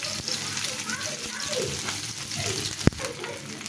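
Chopped onions and whole cumin sizzle in hot oil in a home kitchen, a steady fry with faint stirring. A sharp click stands out near the end, and a voice talks softly over the cooking.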